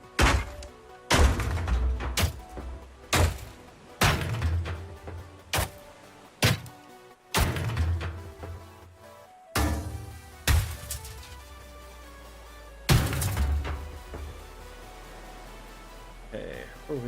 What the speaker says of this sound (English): and then we're gonna destroy the box.